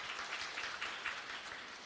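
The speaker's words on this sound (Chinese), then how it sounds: "拍手欢迎谢谢" A congregation claps to welcome guests at a Christmas praise service in a church, a soft, distant, even wash of applause that holds steady and unbroken.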